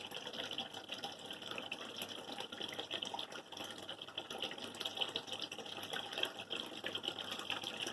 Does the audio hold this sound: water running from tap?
yes